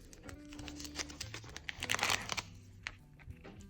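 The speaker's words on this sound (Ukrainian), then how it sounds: "Давайте спочатку наклеїмо сам пакетик." Paper sticker packet from a Meemeows kitten sticker unboxing crinkles and taps as it is handled and pressed down, a close run of soft rustles and clicks with a brief busier burst midway.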